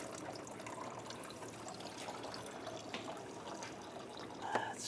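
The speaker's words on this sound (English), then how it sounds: "drain bucket, because you're going to have some coolant come out" Coolant drains from the thermostat housing of a 2009-2010 BMW 535i 3.0L I6 into a bucket as a faint, steady trickle with scattered drips, quiet and a little distant.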